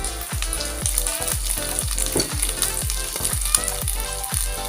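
Chopped eggplant frying in a pan for a chicken and shrimp-paste stir-fry, a steady loud sizzle with rhythmic scraping strokes of a utensil repeating about twice a second.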